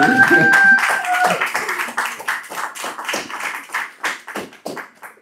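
A church congregation at a Sunday service claps for Jesus, a close, loud burst of hands with a short tone and voices at the start, thinning into a few scattered, rhythmic claps that fade out.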